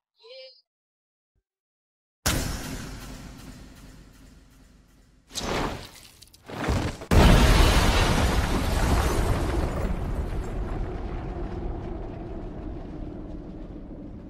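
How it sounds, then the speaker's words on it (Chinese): Bomb explosion effect in an anime: after silence a sudden loud blast, two further bursts, then a huge roaring boom that fades slowly into a long rumbling tail, heard alone. "巨大的爆炸声竟从室外传来"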